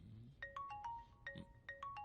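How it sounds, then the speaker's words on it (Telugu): A phone rings in repeated electronic tone bursts, several short bright chirps in a patterned melody, faint and at a distance in a quiet room. "ఫోన్ వస్తుందేమో చూడండి."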